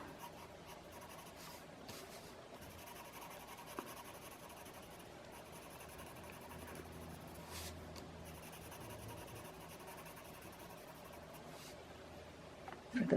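A pencil shades a second dark layer on paper with quiet, continuous scratchy strokes in a steady rhythm, faint and close, ending with a brief louder tap.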